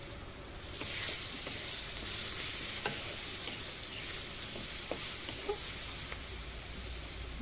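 Chhanar dalna sizzles in a pan while being sautéed with cumin powder, turmeric, salt and sugar, a steady close frying hiss with soft stirring scrapes and clicks.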